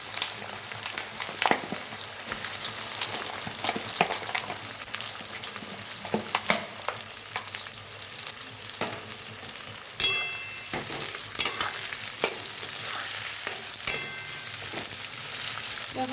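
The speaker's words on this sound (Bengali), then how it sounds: "যখন পেঁয়াজটা ভালোভাবে ভাজা হবে" Sliced onion and garlic sizzle steadily in a hot pan with oil, bay leaf and whole spices for a mutton jhol, a continuous close crackle broken by occasional stirring scrapes and clinks.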